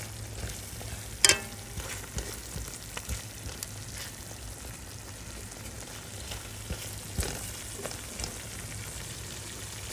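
A curry with tomato paste fries on low-medium heat, giving a soft, steady sizzle and crackle, with one sharp clink of a utensil early on and occasional light stirring scrapes.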